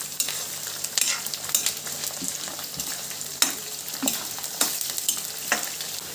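Green chillies, slit lengthwise, sizzle in hot oil in a home kitchen, a continuous crackling fry broken by several sharp spoon-against-pan stirs, near and without speech.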